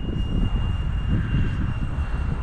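A jet-powered flying wing model roars at near full throttle, a steady, loud, continuous turbine whoosh with a faint high whine, sustained without a break.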